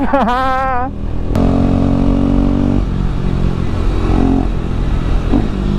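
A superbike at a biker meet in Shillong blips its engine on a downshift, with rising and falling revs in the first second, then a loud, steady engine drone. Voices may be faintly present.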